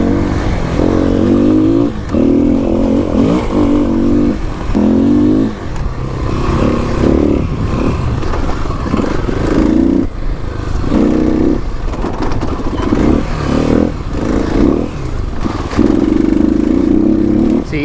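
A 2021 Kawasaki KLX300 dirt bike ridden hard off road, its engine close and loud, rising and falling in repeated revving bursts with rattling and clatter between throttle blips.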